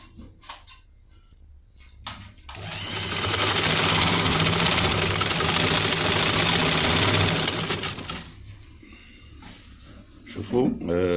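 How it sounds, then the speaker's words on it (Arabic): A Singer sewing machine with a stitching fault runs for roughly five seconds, a close, steady mechanical whir and rapid clatter, with brief clicks and handling noises before and after. "شوفوا لا ماشين كيفاش راهي تخيط"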